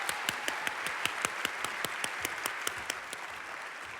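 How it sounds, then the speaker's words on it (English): Applause at a global health conference opening, heard as a sharp, evenly spaced clapping pattern of roughly two claps per second, rhythmic and moderately close, with a softer crowd clapping underneath. "One more round of applause."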